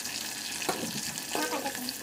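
Cut onions go into a hot pan for chicken biryani, setting off a loud, continuous sizzle with a few brief scraping clatters.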